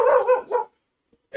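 A dog gives a quick burst of two or three loud, close barks, then falls silent.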